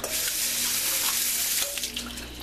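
Water running steadily into a coffee percolator basket to wet it, a continuous close rushing splash from a tap that stays even throughout with no talk.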